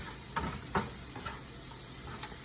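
Shrimp sizzle softly in a pan, with a few quick scraping stirs and light taps of a utensil against the pan over a low, steady hiss.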